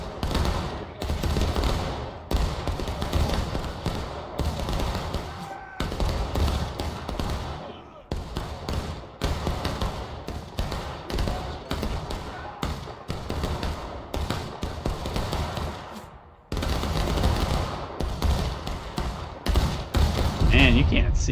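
Rifle and musket fire crackle nonstop through a Civil War battle at Pry House in War of Rights, shots overlapping into a dense, loud barrage with brief lulls, while players talk over the din.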